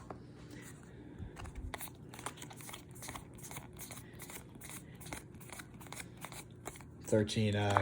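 Flesh and Blood trading cards being counted by hand, a run of quick, light snaps and flicks close by under steady talking.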